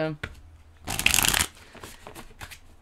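Tarot cards riffle and slap together in a loud burst of shuffling lasting about half a second, with softer card handling before and after.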